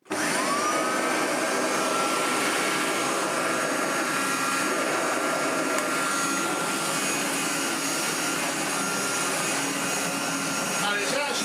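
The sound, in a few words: vintage upright vacuum cleaner motor running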